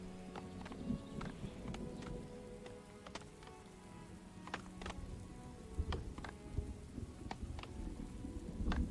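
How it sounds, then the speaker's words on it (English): Rain falling in the colony-building game Farthest Frontier, a soft, steady patter with scattered sharp drip-like ticks over a low ambient bed, faint throughout. "Oh wow, it's already raining."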